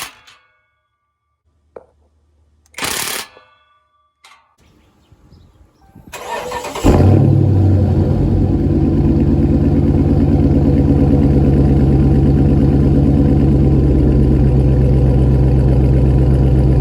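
A car with a Flowmaster Outlaw catback exhaust fires up after a few faint clicks and thumps, then settles into a loud, steady, rumbling idle that continues to the end.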